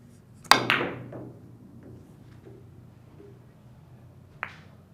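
A billiard cue strikes the ball hard with a sharp close crack, followed by softer ball knocks and a second distinct click of ball contact a few seconds later, in a quiet room.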